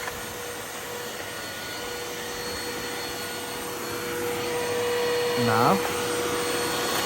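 Upright vacuum cleaner switched on with its brush bar, a steady broadband whir with a high whine, rising slightly in loudness toward the end; a voice speaks briefly near the start.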